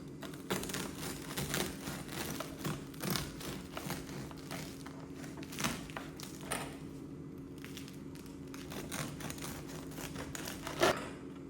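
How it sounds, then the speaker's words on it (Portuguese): Knife sawing through a crusty Italian sourdough loaf made with natural fermentation, giving repeated crunchy crackling strokes in an irregular rhythm at close range over a steady low hum, with no talking. "E agora vamos cortar o nosso pão pra gente ver como que ele ficou."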